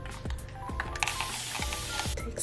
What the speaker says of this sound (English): Spray, spray, spray.